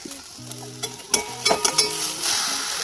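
Whole cumin, three green chilies and chopped onion fry in hot oil in a cooking pot, a steady sizzle broken by close scraping stirs and occasional clinks of the spoon against the metal.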